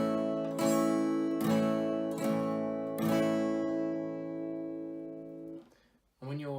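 An acoustic guitar chord strummed up and down about four times at an even pace, each strum ringing out and decaying, then a brief pause and a voice starting at the end.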